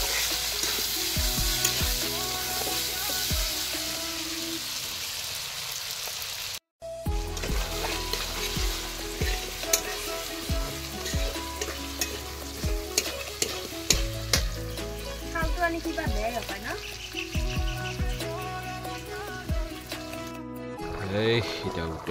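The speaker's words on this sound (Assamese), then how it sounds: "এতিয়া উতলি আছে" Food boiling and sizzling in a pot in a home kitchen, with a dense, steady bubbling hiss and frequent stirring clatter running continuously, broken by one brief gap near the start.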